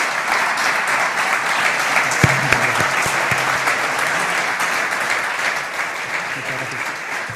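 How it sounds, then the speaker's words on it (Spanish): Sustained applause from an audience at a Castilla y León regional government event with an Iberaval jornada, honouring regional ministers; dense steady clapping fills the whole stretch with a few sharper claps near the middle. "les pido un aplauso y muchas gracias"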